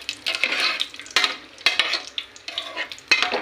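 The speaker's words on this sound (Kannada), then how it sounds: "ಅದಕ್ಕೆ ನಾನು ಗೋಡಂಬಿನ ಹಾಕ್ತೀನಿ. ಗೋಡಂಬಿ ಚೆನ್ನಾಗಿ ಫ್ರೈ ಮಾಡಿಕೊಂಡು" Cashew nuts fry in a pan for coconut-milk ghee rice, giving a steady close sizzle broken by several sharp scrapes and clatters as they are stirred.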